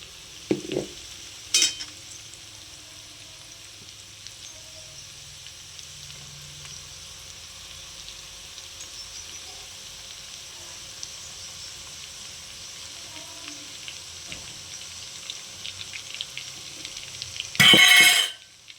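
Gram flour (besan) and ginger roast in a pan over a low flame with a soft, steady sizzle, broken by a few stirring knocks and a louder clatter near the end, with no voices.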